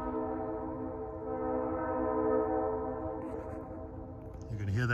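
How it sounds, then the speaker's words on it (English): A Leslie horn on a New Hope & Ivyland Railroad Santa Claus Special train sounds one long sustained chord that echoes across a valley, with the engine rumbling beneath, then a fresh burst of noise near the end. "You can hear that Leslie echoing across the valley."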